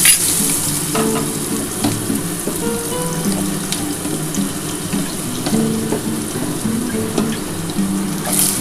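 Potatoes fry in hot oil with a continuous loud sizzle and crackle, with occasional clinks and scrapes over the bubbling throughout.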